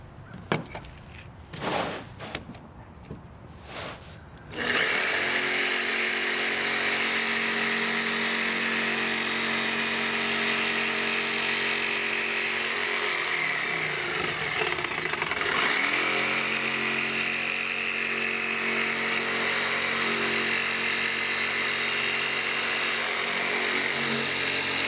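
A jigsaw cutting a wooden Porsche logo, starting abruptly after a few short knocks and then running as a loud, steady whine that dips in pitch for a moment partway through, close and alone with no talk.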